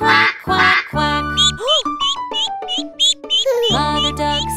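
A singing voice imitates a duck's quack in a children's nursery rhyme, a short series of bright, pitched 'quack' notes over cheerful musical accompaniment, loud and close.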